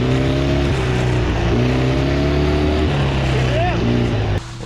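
A vehicle engine revving loudly under throttle for a test dig, rising and falling in pitch in several surges, close by, with people talking over it before it cuts off near the end.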